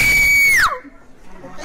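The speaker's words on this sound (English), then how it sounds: "So let's hear the scream." A woman lets out one long, loud, sustained high scream in a studio setting that cuts off sharply, leaving quiet room noise and faint murmuring afterward.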